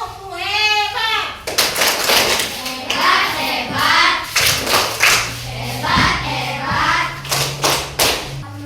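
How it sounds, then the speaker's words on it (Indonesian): A classroom group of schoolchildren performing a rhythmic 'tepuk hebat' clap, sharp patterned claps and thumps in bursts alongside chanting young voices, close and lively. "silakan kelompok memberi tepuk hebat."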